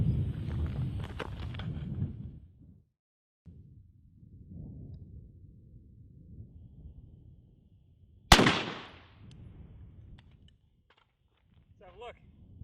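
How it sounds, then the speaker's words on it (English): Gunfire aimed at a Magpul PMAG polymer rifle magazine during a torture test: one sharp, loud outdoor shot cracks out midway, preceded and followed by people talking and faint movement. "Let's shoot it again."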